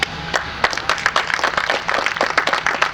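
Audience applause at a tourism podcast event held at Merupa Casino, a burst of many hands clapping in dense irregular claps for about three seconds, fairly close and loud with no talk over it.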